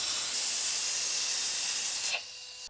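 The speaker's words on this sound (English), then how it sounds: "So loosen this up and just suck all the brake fluid out of the system." A Mighty Vac hand vacuum pump drawing brake fluid out of BMW Airhead front brakes, a steady close airy hiss that cuts off abruptly near the end, with no talk.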